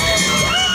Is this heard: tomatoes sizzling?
no